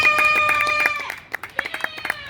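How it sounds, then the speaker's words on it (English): An audience at a zoo bird show claps in a short scattered burst, fairly close, mixed with whistling tones at the start before the clapping thins to a few separate claps. "How about we try a round of applause for all of the birds today?"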